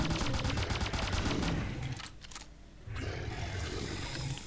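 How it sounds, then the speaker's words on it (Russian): Rapid bursts from a Covenant-style crystal weapon in the Dino Hunter Deadly Shores video game, a loud continuous volley of shots that breaks off briefly mid-clip, then resumes with dense roaring fire. "Опробуем это ваше ковенантское оружие из игры Halo."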